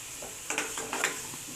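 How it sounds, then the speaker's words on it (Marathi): Spice paste (vatan) frying in oil for a mackerel (bangda) fish curry, a steady close sizzle with soft stirring scrapes and spoon clicks against the pan. "मच्छीला वाटण घालायचं, चांगलं परतून घ्यायचं आपल्या तेलामध्ये."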